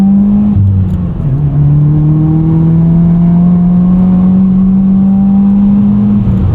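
Modified 2020 Subaru WRX with a six-speed manual, its engine revving up high and holding a steady climbing drone from inside the cabin, loud and continuous with no talk over it.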